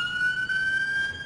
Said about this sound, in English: let these sirens pass by outside the DeKalb County Courthouse